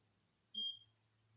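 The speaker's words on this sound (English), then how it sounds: "That beeping is gonna constantly irritate me" A single short, high electronic beep sounds once against a quiet background hum.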